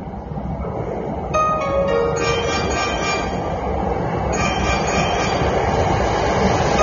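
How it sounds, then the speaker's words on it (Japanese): A Hankyu train pulls into Kawanishi-Noseguchi station, its rumble and wheel noise filling the platform while high squealing tones ring out as it arrives, with no talk over it. "まもなく1号線に宝塚方面へ向かう電車が到着します。"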